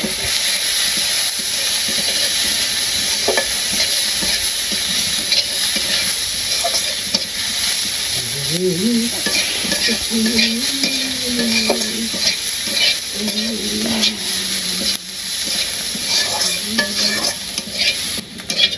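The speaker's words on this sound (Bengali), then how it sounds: "আমার পেস্টি ভাজা হয়ে গেছে গা" Fish paste fries in oil in a pan at a village home, a loud continuous sizzle and hiss close by, with stirring scrapes and a faint voice or tone drifting underneath.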